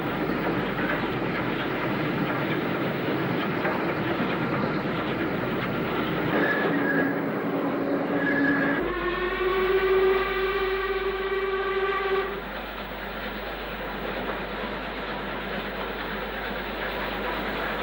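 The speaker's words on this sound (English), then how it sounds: "the train heads south out of Stoke, passing the back streets and kilns of the city" A 1960s steam train rolls past steadily with a low rumble near Stoke-on-Trent, and partway through a sustained whistle-like tone sounds for several seconds before the rumble continues.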